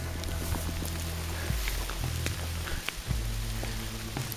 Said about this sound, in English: It is now hailing.